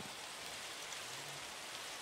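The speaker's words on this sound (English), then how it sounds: "And of course it's raining!" Steady rain falling in the Minecraft video game, a continuous soft hiss of drops spread evenly throughout, fairly quiet with no speech.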